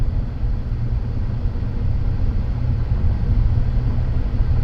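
A 2011 Ford Explorer climbs a hill under acceleration, giving a steady low engine and road rumble from inside the cabin that stays fairly even throughout, with no talking.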